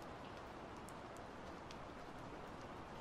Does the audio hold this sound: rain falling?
yes